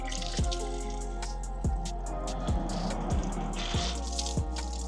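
Water runs into a bucket of paint-decontamination mix, a steady splashing and dripping stream with repeated sharp knocks or drips punctuating it, close and fairly loud, with no voices.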